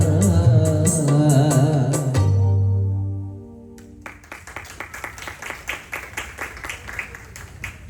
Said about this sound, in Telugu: చప్పట్లు కొట్టడం తప్పు కాదు